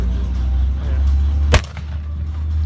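An M60 Patton tank's main gun fires one sharp, loud blast midway through a mock battle against a Leopard 1 tank, over a constant low engine rumble.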